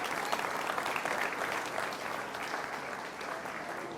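A crowd applauds the grand champion exhibitors at a 2019 beef show, sustained dense clapping that stays fairly even throughout with a slight fade toward the end.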